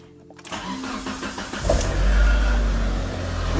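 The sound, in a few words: car engine starting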